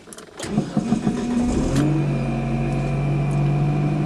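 A DSM car engine cranks with a few quick chugs, fires up with a brief rising rev, then settles into a steady, loud idle close by.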